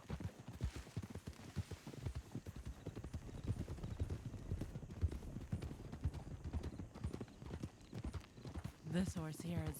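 Horse hooves clip-clop steadily and close in the Red Dead Western game, a rapid rhythmic string of hoof strikes over ambient background with a brief whinny-like sound near the end.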